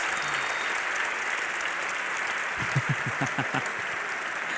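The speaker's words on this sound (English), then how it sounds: "put your hands in the air, clap, and cheer in for the semi-final of the Dreamhack League of Legends Championships!" Spectators at a DreamHack League of Legends Championship semi-final clap and cheer in a large esports arena, a dense wash of applause and crowd roar building into sharper rhythmic clapping toward the end.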